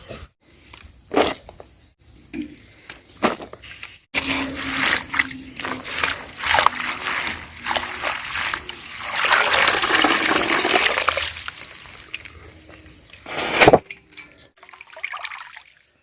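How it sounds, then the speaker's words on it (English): Taro leaves from a garden are rinsed in water, with splashing, trickling and pouring sounds swelling and fading over about sixteen seconds, punctuated by occasional knocks and clatters. "So I'm washing it twice because it's from the garden."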